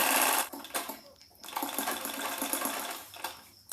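A sewing machine stitches along a blouse neckline in a steady rapid whir, broken by brief pauses between short runs, close and fairly quiet.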